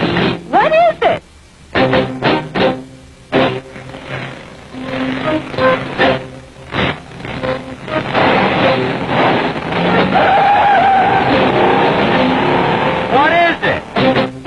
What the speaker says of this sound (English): Driving the answer makes it. Plymouth makes it. Plymouth Hemi Cuda.